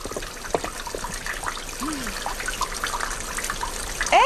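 Water splashing and trickling as someone washes with it in an Old West setting, a steady wet patter running throughout with a brief sharper splash near the end, no speech.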